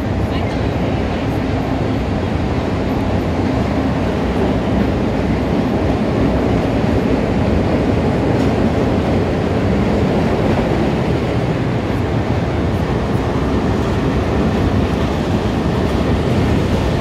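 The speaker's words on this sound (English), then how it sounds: "There's another train, but it's making some weird noises." A loud, steady rumble of a train rolling past close by on elevated tracks in downtown Chicago, continuous broadband roar with rattling metallic clatter throughout.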